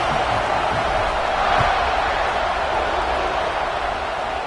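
Steady, dense crowd buzz fills a college football stadium at the LSU vs. Georgia game, moments before a kickoff following a score, a continuous roar with no distinct breaks.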